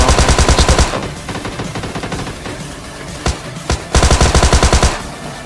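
Rapid automatic gunfire in a shooter video game near a clock tower house, loud close bursts at the start and end with a few single shots between, over a steady game soundscape.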